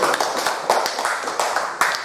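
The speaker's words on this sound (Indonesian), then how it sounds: "Ya, tepuk tangan untuk kelompok 1." Students in a classroom clap for a group after its presentation, a close, lively patter of several pairs of hands with a few sharper individual claps standing out.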